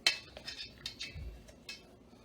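A knife cuts a cup-sized block of butter into thirds for marshmallow squares, giving soft taps and light clinks against a cutting surface, a few quiet, separate knocks close by.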